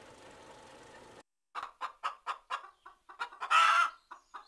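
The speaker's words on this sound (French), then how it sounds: "Le coq." Rooster on a farm, a burst of rapid clucks followed by a louder drawn-out crowing call and a final cluck, close and clear after a short silence that follows a hazy opening.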